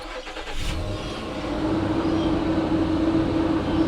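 A truck engine cranks briefly and catches, then settles into a steady, close idle hum that continues to the end.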